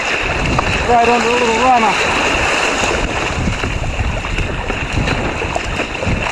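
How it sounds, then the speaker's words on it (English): Strong wind roars steadily across the microphone on an open boat, mixed with water and wave wash and a brief whistling tone early on, while someone speaks over it. "This is really as strong as any wind I guess we've been out in."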